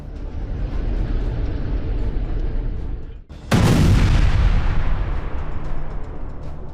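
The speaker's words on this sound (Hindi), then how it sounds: "ये वीडियो इस बात का सबूत है कि गाजा इस वक्त ताबड़तोड़ धमाकों से दहल रहा है" Explosions from Israeli strikes in Gaza: a low rumble gives way to one sudden, loud, close blast whose roar lingers and slowly fades.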